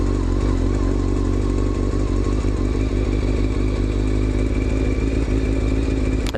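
A motorcycle idles loud and close, its engine running with a rough, uneven pulse and steady clatter, with no voices heard.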